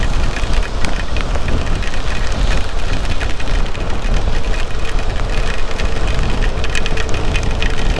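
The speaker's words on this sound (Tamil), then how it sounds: "மழை சரியான மழை" Heavy rain pours down during a motorcycle ride on a road to Karak, a dense steady hiss of rainfall mixed with a low engine rumble and wind, loud and continuous throughout with no talking.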